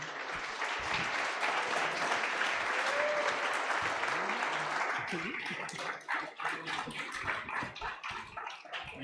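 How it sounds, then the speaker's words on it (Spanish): Audience applause for a presenter at a Spanish-language data science meetup talk on genetic algorithms: dense, sustained clapping from a crowd that thins into scattered individual claps toward the end, with faint voices underneath. "un aplauso para nuestro speaker"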